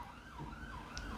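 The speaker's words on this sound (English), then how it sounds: "those sirens again" Emergency sirens wail outside at a distance, faint and muffled indoors, their rising and falling tones sweeping steadily over low traffic rumble without talk.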